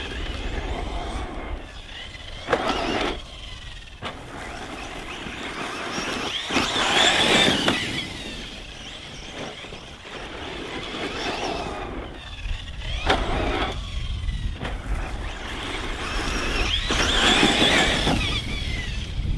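A Losi 8ight-T RC truck on 4S power with a Hobbywing Max8 combo and stock tyres, driven off-road on dirt. Its electric motor whines in bursts that rise and fade as it passes near and far.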